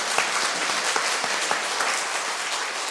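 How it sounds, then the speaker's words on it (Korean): A lecture audience claps steadily after a philosophy talk on Duns Scotus, a dense wash of many hands at even loudness for about three seconds, with no voices on top. "한번 박수."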